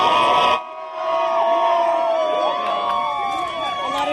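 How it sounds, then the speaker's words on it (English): Election-night crowd celebrating Obama's win roars with cheers, whoops and shouts; a loud burst cuts off briefly, then sustained cheering and yelling resumes, dense and close. "A lot of cheering, a lot of tears here tonight."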